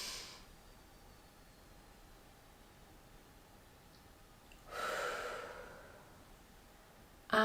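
An inhalation during restorative yoga, one slow audible breath drawn in through the nose, soft and close, set in near silence with a faint earlier exhale.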